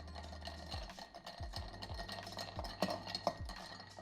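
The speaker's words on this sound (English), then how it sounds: "Give this a nice 25-30 second stir" A Negroni cocktail being stirred with a spoon in a mixing glass, with several soft clinks of ice against glass at an irregular rhythm, close and quiet.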